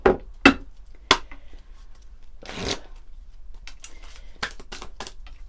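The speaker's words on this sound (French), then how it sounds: "On va prendre quelques cartes de l'oracle" Oracle cards are shuffled by hand in a series of crisp, close riffling bursts and soft slides, several sharp snaps near the start and a cluster of quicker flicks toward the end, alone without talk.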